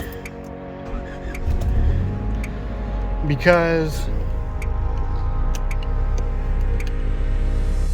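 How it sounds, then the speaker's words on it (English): A 1988–2000 Honda car engine cranks and catches, then settles into a low, steady idle, heard close by with a brief rising whine at the start and someone speaking over it. "I'm going to start the car"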